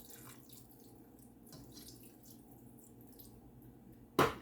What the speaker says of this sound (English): and slowly add in water.